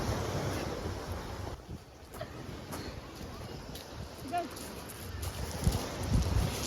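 Big ocean waves wash against the seashore in Leyte, a steady rumbling surf with wind noise buffeting the microphone throughout.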